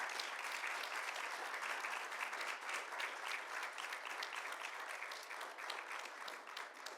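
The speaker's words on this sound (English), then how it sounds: "now is a time to give a round of applause to the candidates who did an outstanding job" An audience at a school board candidates forum applauds the candidates, a steady, even patter of many hands clapping, fairly distant and quiet, continuing throughout with no talk.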